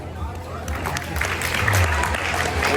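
A student theater audience at a university claps in a dense, steady wash that swells slightly toward the end, with crowd murmur mixed in.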